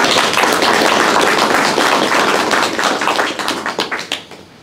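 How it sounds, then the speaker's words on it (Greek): Audience at a presentation on digitizing the historical archive of eleven communities in West Lesbos applauds the camera crew: a dense, steady wash of many hands clapping close by, thinning into scattered claps and fading out near the end. "Είναι αυτοί που χρειάζονται ένα χειροκρότημα και είναι πίσω από τις κάμερες."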